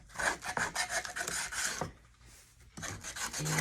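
A coarse sander distresses a painted wooden crate, producing loud, rhythmic rasping scrapes in quick bursts, a brief pause, then more close-up abrasive grinding strokes.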